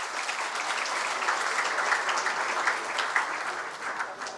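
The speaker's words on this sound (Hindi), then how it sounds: "ताली बजाने से कोई सो रहे होंगे," An audience at an award ceremony honouring meritorious students claps in sustained, even applause that holds steady throughout, with no voices over it.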